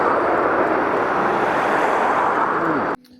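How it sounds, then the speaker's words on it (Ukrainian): A 4.2 kW hybrid inverter's cooling fan roars under a 2 kW load with a loud, steady, jet-like whoosh that cuts off abruptly near the end, leaving a faint hum. "коли ви дасте на нього нагрузочку 2 кВт, він взагалі заводиться як турбореактив"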